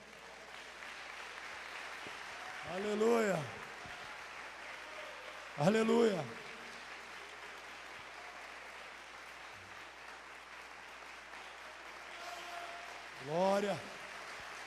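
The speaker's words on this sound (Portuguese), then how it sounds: "Você pode aplaudir ao Senhor?" Church congregation applauding steadily through a sermon, a broad even wash of clapping with a preacher's voice breaking in three times with loud shouted exclamations.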